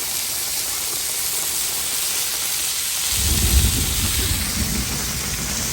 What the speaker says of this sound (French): Là c'est l'orage plein pot